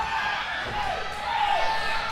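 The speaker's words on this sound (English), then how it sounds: "The crowd's coming alive right now." A pro wrestling crowd at an Impact Wrestling match cheers and whoops in a steady, dense roar of many voices, with a few shrill whistles rising over the din throughout.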